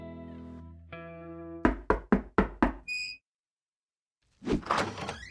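Five sharp knocks on a door in quick succession, loud and close, following a sustained tonal hum and preceded by silence, with a brief chime-like tone and a later rough noise burst.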